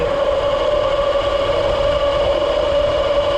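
A portable generator run to charge a bike's batteries holds a steady, loud mechanical drone with a prominent constant hum, unchanging throughout and without any voices.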